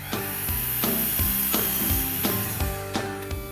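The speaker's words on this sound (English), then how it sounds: "cut the 1x4 cedar for the box frames" Handsaw or power saw cutting 1x4 cedar boards for potting bench box frames, with repeated rhythmic cutting strokes and sharp bursts close up, heard alone without talk.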